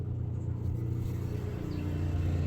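A small motorcycle engine idles steadily close by, a continuous low rumble with a faint whir running evenly through the whole stretch, no voices over it.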